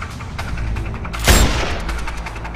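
A single loud sniper rifle shot from the video game Sniper Ghost Warrior 2 cracks out sharply over a low, steady game ambience, with a brief echoing tail.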